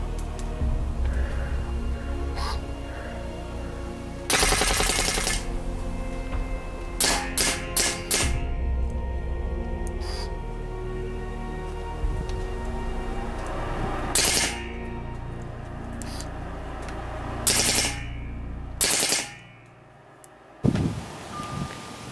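A GOG G1 paintball marker fires outdoors in fully automatic mode, with several separate bursts of rapid, sharp pops over a low, steady background rumble.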